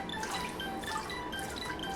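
Cold water pours steadily over cooked spaghetti in a kitchen, making a continuous, soft splashing hiss with faint dripping, fairly quiet and without voices.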